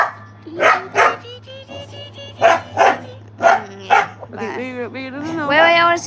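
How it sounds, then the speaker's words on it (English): A Doberman barks loudly and close in a run of sharp, repeated barks, ending with higher whining yelps. "he yaps about everything. Like, if you do one thing wrong to him, he's yapping. He's yapping. He's barking."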